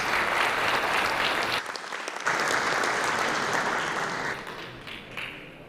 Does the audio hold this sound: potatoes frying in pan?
no